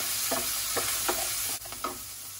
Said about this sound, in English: Add my spices, the black pepper powder, turmeric powder and asafoetida.